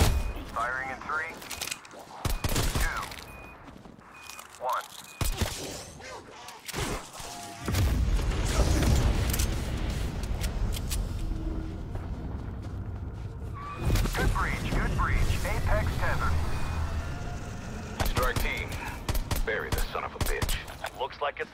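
Bursts of automatic gunfire and heavy booms from a first-person shooter game against a Horde, mixed with scattered shots, game radio voices and a streamer speaking over the action.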